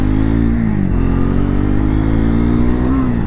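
A Triumph Scrambler 400X motorcycle engine idles and revs close by with a steady rumbling drone, its pitch shifting slightly, while a voice talks over it.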